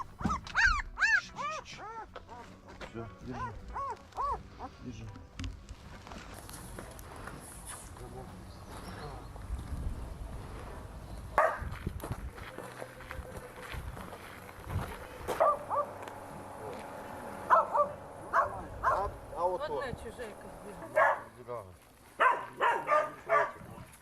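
Puppies in a war-torn area whimper and yip in a run of high, wavering cries early on, then give scattered short barks and squeals, close by, with people talking throughout.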